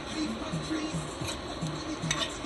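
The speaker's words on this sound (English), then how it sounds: "We have the rice boiling here." Rice boils in a pot while curry chicken is cooked, giving a soft bubbling and simmering sound with light clinks and stirring noises from the pot, fairly quiet and close.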